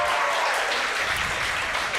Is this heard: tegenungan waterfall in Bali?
no